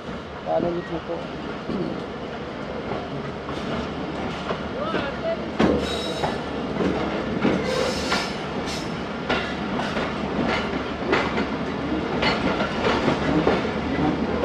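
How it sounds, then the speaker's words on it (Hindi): A train pulls away from Kalur Kot railway station with a rolling rumble and the rhythmic clickety-clack of wheels over rail joints. Sharper metallic clanks and squeals rise as it gathers pace, with voices faintly in the background. "4:18 पर दोस्तों गाड़ी रवाना हुई हमारी कलूर कोट रेलवे स्टेशन से।"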